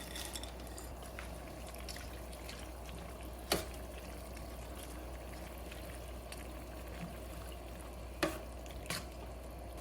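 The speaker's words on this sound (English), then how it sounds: "We're going to add some peas and we're going to stir this up." Peas are stirred into a simmering seafood and chicken paella, a quiet bubbling under occasional sharp scrapes and knocks of the spoon against the pan.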